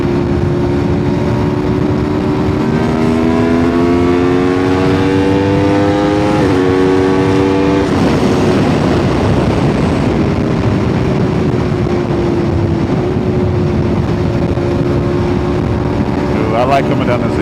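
Aprilia RSV4 superbike engine under way on an open road downhill incline, a loud continuous drone with rising and falling pitch as it shifts through gears, wind roar throughout.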